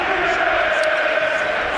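A raucous home football crowd at a Southampton match, a steady loud roar of chanting and cheering that fills the stadium without a break.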